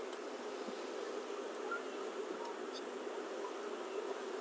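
Honeybees in a small hive, just smoked and sitting on a double screen bottom board, give off a steady, even buzzing hum that stays fairly faint and continuous throughout, with no voices.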